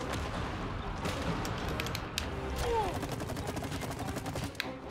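Gunfire in the co-op video game It Takes Two, a steady stream of rapid shots running under the game's busy sound, with a faint voice briefly present.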